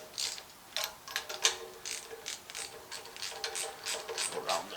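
Ratchet wrench snugging down cylinder head bolts on a Wild Willys engine build, rapid clicking pawl strokes in irregular bursts, close and fairly quiet, no talk.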